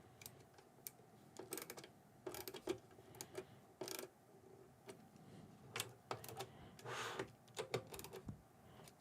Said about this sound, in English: I'm using the ratchet to help me figure out the torque.